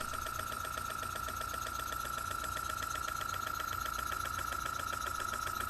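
A small single-cylinder, single-acting horizontal model steam engine with a spool valve, built of brass, aluminium, copper and steel and run on compressed air from an old airbrush compressor, chugging steadily with a fast even beat and a constant whistling hiss.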